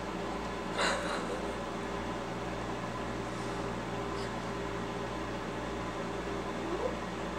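A microwave oven runs while heating soap, giving a steady, even hum and low drone with a faint fan-like hiss throughout and no talking.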